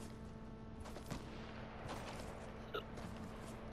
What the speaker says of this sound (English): There's gunshots over here.